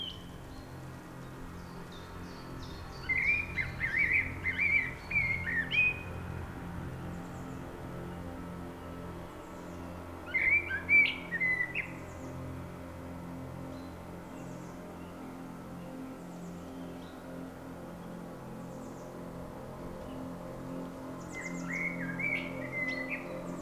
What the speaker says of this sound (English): The innocence of birdsong shrouds the bushes